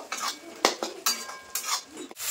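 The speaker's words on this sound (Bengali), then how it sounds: "এবার দিয়ে দেবো 1 চামচ চিনি, দিয়ে এবার মশলাটা সুন্দরভাবে কষে নেব" A spoon scrapes and clinks against a pan while spices and a spoonful of sugar are stir-fried with a little water for a yellow pea ghugni with mutton fat, in several quick, close, separate strokes.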